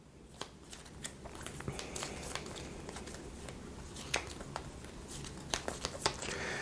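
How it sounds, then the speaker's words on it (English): A deck of game cards for a Marvel Champions card game is shuffled close by, with soft papery riffles, crisp snaps and scattered ticks over a faint background rumble. "I got to reshuffle my deck here real quick. Let me give it a quick shuffle"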